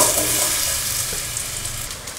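Banana pieces sizzle in hot coconut oil, a close, steady crackling hiss that fades slightly over two seconds, with no voices.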